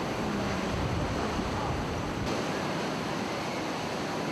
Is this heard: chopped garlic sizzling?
no